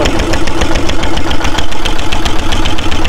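A loud, close motor boat engine chugs steadily in a fast, even throb throughout, with no voices, on a boat ride to Mangal Dwip near Kolkata.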